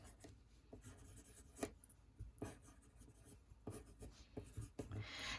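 A pencil draws grassy lines on paper, quiet close scratchy strokes in short irregular bursts, some quick flicks and longer scribbles, with no talk.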